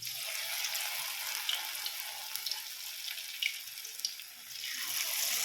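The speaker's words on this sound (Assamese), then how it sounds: "এতিয়া মই পকৰা লাহে লাহে এৰি দিম।" Pakoras sizzle in hot oil in a pan as they are slowly added, a steady broad hiss with soft crackles at close range, easing briefly before swelling again, with no voices.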